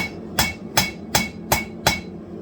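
Hammer blows forging a San Mai paring knife blade, five evenly spaced, ringing metallic strikes about every 0.4 seconds, loud and close, each with a short bright decay.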